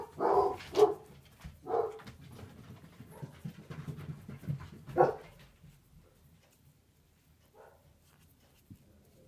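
Dogs inside a house, heard as a few close, breathy panting and whimpering bursts in the first half, then quieter for the rest.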